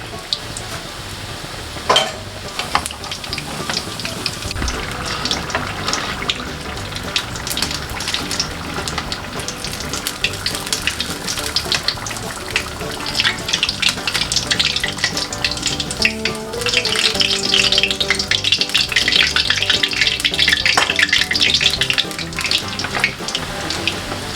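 Homemade spring rolls with a generous filling deep-frying in oil over medium heat, a steady crackling sizzle that grows louder and denser toward the end, with occasional clinks of utensils.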